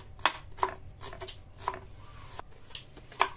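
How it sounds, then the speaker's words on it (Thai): A knife chops fresh green and red chilies on a board for a Thai crispy catfish salad dipping sauce, with sharp, irregular close chops and quieter taps in between, and no talking. "หั่นพริกครับทีนี้หั่นพริก"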